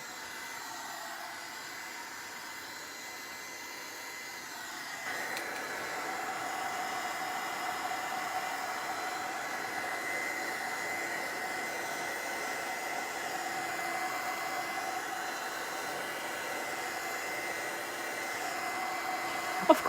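A hair dryer blows steadily on craft modeling paste, a continuous airy whoosh that starts softer, then grows louder after about five seconds and holds without talk.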